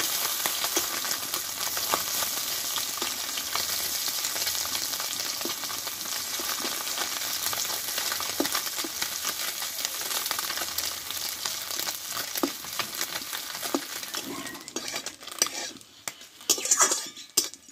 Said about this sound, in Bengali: দেখো, মাছটা এক পিস ভেজে নিয়েছি, আমি উল্টিয়ে নেব।